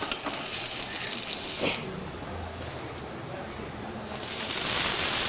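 Garlic, dried red chilli and sliced onion fry in a pan for a red amaranth greens dish, giving a steady close hiss and sizzle that grows louder and brighter near the end.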